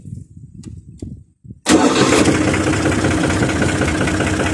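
A few faint clicks and rustles, then a New Holland 55-56 tractor engine cranks on the key and catches, settling into a loud, steady rumbling idle.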